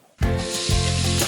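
Spice paste of shallots, garlic, pepper and chilli drops into boiling oil with a sudden loud sizzle that keeps hissing steadily, close up.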